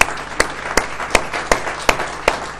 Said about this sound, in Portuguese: Dê uma grande salva de palmas a vocês.